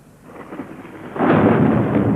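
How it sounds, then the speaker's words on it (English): Thunder rolls in from a low rumble and swells into a loud, sustained crash that keeps rumbling to the end, with no one speaking. "All right, so it was thunder."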